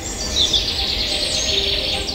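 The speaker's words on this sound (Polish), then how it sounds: "Szum drzew, odgłosy zwierząt, śpiew ptaków." Birds sing in a forest, bright chirps and warbling calls close by over a soft, steady background of rustling woods.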